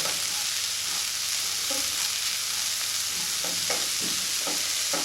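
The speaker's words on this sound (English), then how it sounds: "what we want to do now is mix this well, and we want to leave it alone so that it forms a nice brown crust" Corned beef hash of finely chopped corned beef and diced potatoes frying in butter in a pan, a steady close sizzle with soft scraping stirs toward the end, no talking.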